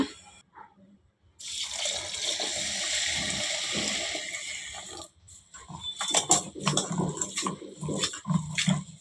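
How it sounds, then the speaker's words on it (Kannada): Soaked rice and lentils, with fenugreek, chana dal and flattened rice, are washed by hand in a bowl of water: splashing and swishing come in two bursts with a brief quiet gap, close and fairly loud, with no talk. "ಈಗ ನೀರು ಹಾಕಿ ತೊಳ್ಕೊಳೋಣ"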